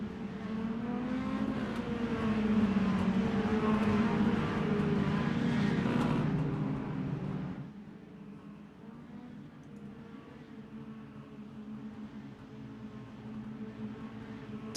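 A field of race cars in the iRacing Mini Stock heat at USA International Speedway roars off together, a loud layered engine drone that fades and drops to a more distant hum after several seconds.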